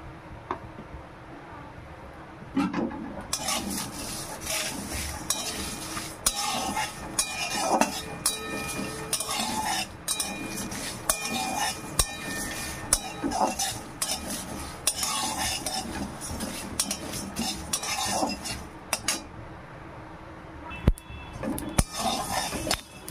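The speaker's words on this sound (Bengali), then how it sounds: "এবার আমি হালকা আঁচে একটু ভেজে নেব সব মশলাগুলো" Spices and dried chillies dry-roasting in a pan over low heat for raw mango pickle, with a steady scraping stir, clinks of a metal spoon against the pan and faint crackle throughout.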